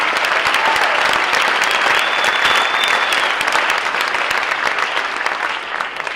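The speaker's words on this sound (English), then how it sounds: "Could we have a round of applause?" Steady, full applause from an audience greeting the finalists at the National Book Critics Circle awards ceremony, loud and even throughout with a slight fade at the close.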